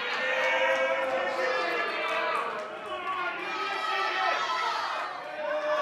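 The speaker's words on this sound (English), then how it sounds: "You hear the crowd responding to that." A wrestling crowd at a professional wrestling event shouts and cheers in reaction to a slam, a dense mass of excited voices swelling and easing across the few seconds.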